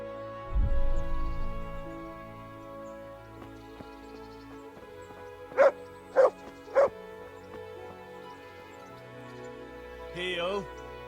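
Three short, loud dog barks from a video game dog in Kingdom Come: Deliverance ring out close and evenly spaced over background music, with a brief whine near the end.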